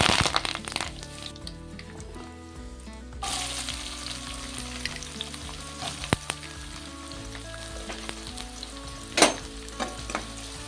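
Mustard seeds, cumin and curry leaves sizzle loudly in hot oil, a dense crackling fry with sharp pops and spits, briefly quieter early then steady throughout, for a chikkudukaya palakura curry.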